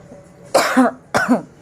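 Two sharp coughs, close and fairly loud, separated by a short pause, with no talking.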